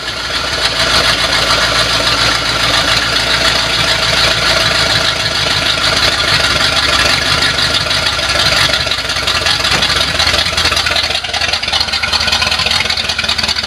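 A 1976 Corvette engine runs loud and close with a continuous, rough mechanical drone and rumble that stays steady throughout.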